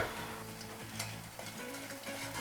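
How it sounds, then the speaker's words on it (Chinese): A bread slice with egg and cheese frying in a pan over medium-low heat, giving a soft, steady sizzle with a few faint ticks and scrapes, heard close and quiet with no talking. "现在开火，开中小火慢慢去煎它。"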